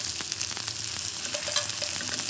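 A veal chop sizzles and crackles steadily in a hot pan as it browns, with a continuous close frying hiss broken by brief spatters and faint clinks of utensils.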